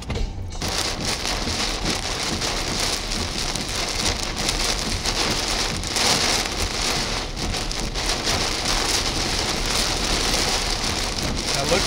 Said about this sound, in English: The rain's heavier and your visibility is less than a quarter of a mile.